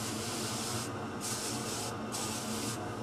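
A sandblaster at about 20 psi sprays abrasive onto glass, a steady harsh hiss that pulses on and off in short bursts, close and alone without talk.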